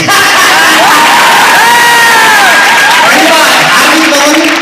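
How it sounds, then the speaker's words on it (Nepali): An audience at a ghazal recital in Nepal breaks into loud, sustained cheering and applause, with whoops and raised voices rising over a dense crowd roar throughout. "बजाइदेऊ न जोरदार ताली"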